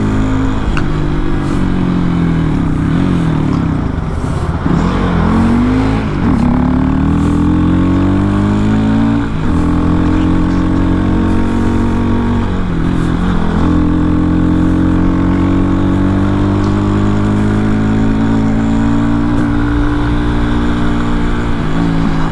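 A motorcycle engine in fourth gear runs steadily at a constant mid-range pitch, loud and close, with small dips and swells in revs and no talking.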